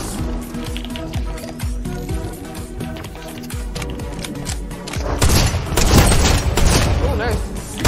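Rapid assault rifle bursts in Fortnite Chapter 3 with no building, rattling repeatedly in quick, punchy volleys over game music and effects, growing louder and denser toward the end, with a voice talking over parts of it.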